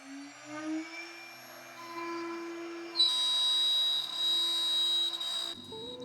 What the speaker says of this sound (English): now it's time to let the CNC do what it does best